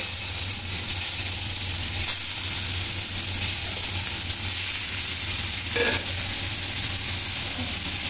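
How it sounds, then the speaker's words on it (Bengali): Steady sizzling of marinated fish frying in hot oil in a frying pan, loud and continuous throughout with a brief clink midway. "ফ্রাই প্যানে পরিমাণ মতো তেল দিয়েছি, তেলটা গরম হয়ে গেছে। এখন এই যে ম্যারিনেট করা মাছগুলো দিয়ে দেব।"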